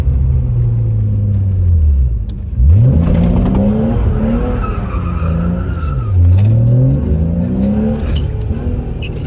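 A 1993 BMW E36 325i driving, its engine rising and falling through several gears with clear revving sweeps and shifts, loud and close from inside the car with no talking.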